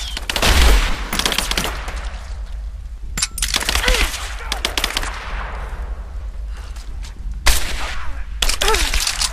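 Gunfire in Rise of the Tomb Raider: loud, sustained automatic bursts and single shots cracking close by in an irregular rhythm, with explosive hits, as voices shout intermittently over the fight.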